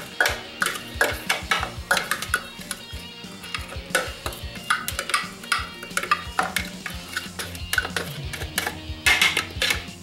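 Spoon stirring meatball soup ingredients for Mexican albondigas in a pot, a busy run of quick clinks and scrapes against the metal, close and steady for the whole stretch with no talking.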